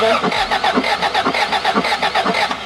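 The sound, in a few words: vintage van engine cranking over during spark test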